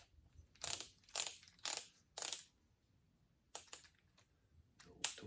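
A torque wrench is adjusted before tightening cylinder head bolts on a Case 188D tractor engine: four evenly spaced mechanical clicks, then a pause and a few more scattered clicks, close and quiet.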